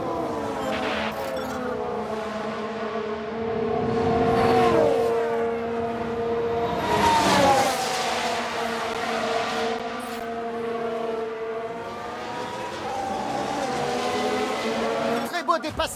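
Formula 1 race cars in F1 Manager 22 scream past one another on a track in light rain, with high engine whines rising and falling as cars close in and overtake.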